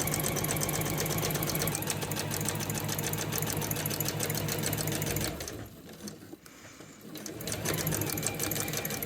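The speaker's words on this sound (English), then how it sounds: "Now I'm just going to sew down and then stop." A Juki UX8 sewing machine runs at a steady fast pace stitching a piped cushion cover, its close, even whirr broken by a brief slowdown midway before resuming.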